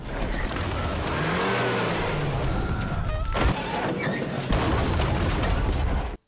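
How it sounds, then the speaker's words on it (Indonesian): A car speeds off and crashes, overturning after hitting a bump: a loud, continuous engine and rushing roar fills the whole stretch, broken by sharp impact bursts around the middle. "mobil mereka harus terbalik akibat menabrak gundukan"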